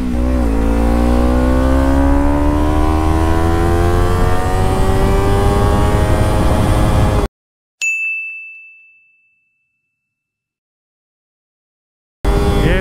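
Kawasaki Ninja 300 motorcycle accelerating hard in second gear, its engine note climbing steadily and loudly for about seven seconds before cutting off abruptly, followed by a single bright ding and silence, with no talking.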